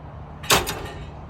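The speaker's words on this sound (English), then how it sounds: "This is a 15-mile-an-hour friction hinge entry door." A friction hinge entry door on a Montana RV swings shut with one short, close thump and a faint rattle, followed by quiet room tone.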